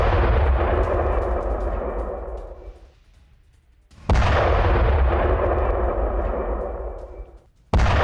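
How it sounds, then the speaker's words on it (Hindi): Heavy artillery shelling at a Russian military base in wartime, two long rumbling blasts roaring loud across the full range, each decaying over several seconds with echo before the next strikes. "शेलिंग होती रही"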